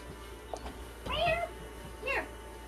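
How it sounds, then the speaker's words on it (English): A pet cat indoors, at a door, gives two clear meows about a second apart, the second shorter, fairly close and moderately loud over quiet room tone, with a faint soft sound just before. "I have cat."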